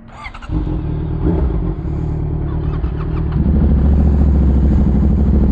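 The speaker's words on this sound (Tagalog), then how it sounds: "Daming motor, grabe." Many motorcycles idle and rev together at a night ride meetup of riding groups, a dense, loud engine rumble with overlapping revs that swells after a few seconds.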